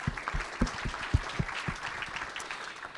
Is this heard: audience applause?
yes